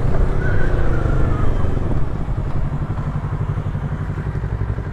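A Kawasaki Z650 in A2-restricted form rides along with a steady, loud engine drone and road rumble, holding an even tone throughout with no voices over it.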